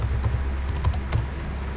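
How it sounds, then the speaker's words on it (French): Computer keyboard keys clatter in a short run of light, irregular taps, ending with a firmer press of the Enter key, close and clear over a low room hum. "J'appuie sur la touche Enter de mon clavier, la touche entrée."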